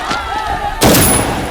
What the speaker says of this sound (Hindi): पुलिस ने गोली चला दी है।